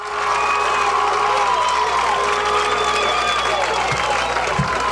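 A high school football crowd at Thornton Academy v Windham cheers and claps in a loud, sustained roar, with whoops and shouts rising over the continuous noise.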